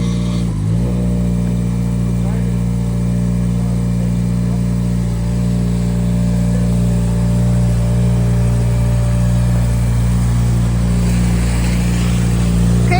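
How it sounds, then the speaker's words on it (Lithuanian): An N5-class Škoda Fabia rally car engine running steadily at a loud, close idle with a deep droning hum throughout, with faint voices in the background. "Pavyko užsikurti ir nuvažiuoti sėkmingai."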